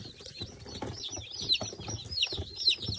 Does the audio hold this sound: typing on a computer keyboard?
no